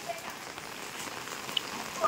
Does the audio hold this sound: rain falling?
yes